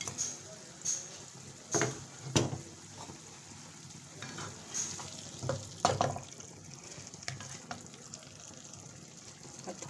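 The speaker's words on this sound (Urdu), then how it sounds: "اس کا اندر ہم فش شامل کر دیں گے۔" Fish slipped into a cooked masala for a fish curry sizzles and spatters in the pan, with irregular bursts of stirring and clatter over a continuous frying hiss, close and fairly quiet.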